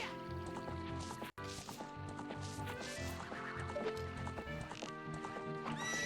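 A horse's hooves clatter and a short whinny rises from Epona in a Zelda video game, amid busy game music and effects, with a brief dropout early on; loud and continuous.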